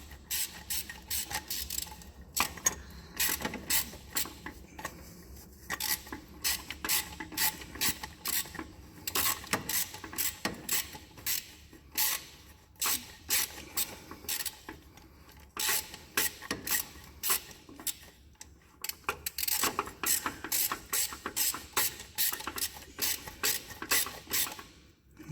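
Power tool runs up the bolts seating an oil filter adapter assembly on a Ford F-150 5.4 3V engine, giving repeated short ratcheting and whirring bursts with brief gaps, close and clear, continuing steadily for the whole stretch.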